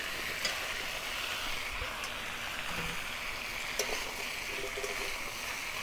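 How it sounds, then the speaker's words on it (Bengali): Vegetables including drumstick, capsicum and eggplant frying in oil in a pan for Bengali navratna curry, a steady hissing sizzle that holds evenly throughout with faint clinks in the background. "আমার এই সবজিগুলো প্রায় ভাজা হয়ে গেছে"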